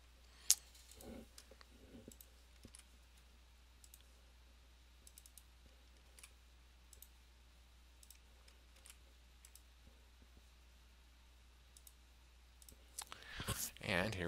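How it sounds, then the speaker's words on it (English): A computer keyboard and mouse are used to type and click through a software login, with faint, scattered clicks and key taps at an irregular pace over a quiet background and a voice briefly present. "So let's go ahead and log in here as Chad."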